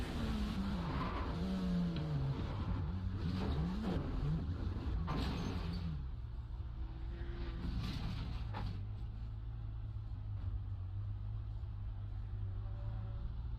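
Dallara P217 prototype race car in the iRacing sim at Monza, running about 25 mph after clipping curbs, engine droning steadily throughout with brief tire skids and scrapes in the first half, loud and close.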